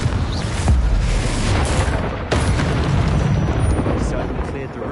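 Confringo fire-blast spell from Hogwarts Legacy going off in combat, a loud close boom bursting early, then a second sharp blast midway, with rumbling debris and crackle filling the rest.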